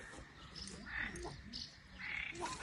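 A frog croaks in repeated short bursts at a fishing spot, moderately faint and outdoors, with a few other small calls around it.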